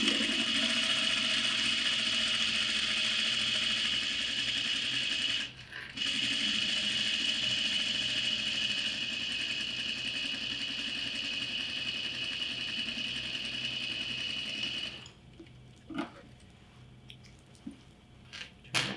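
A sewing machine top-stitches a fabric bag strap, running steadily and close for about fifteen seconds with one brief pause near the start, then stopping into near quiet with faint handling noises.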